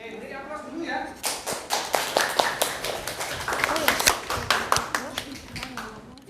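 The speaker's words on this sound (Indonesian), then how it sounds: "Beri aplaus dulu ya." A small audience claps after a group presentation, with distinct, unsteady claps spread over several seconds and voices talking alongside.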